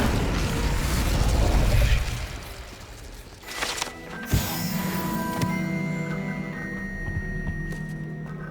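An Incendio fire spell is cast in the Hogwarts Legacy video game as a loud whooshing burst that fades into sparkly, ringing magical tones and a low rumble, with a brief thud partway through.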